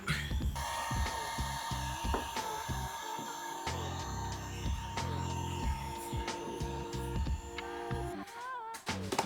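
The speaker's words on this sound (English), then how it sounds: "We're gonna use the heat gun to try to finalize it." A heat gun blows steadily on a vinyl decal over a Toyota Tundra truck hood, giving a constant airy whir with a faint hum and occasional light handling knocks. It stays close and even, with no talk.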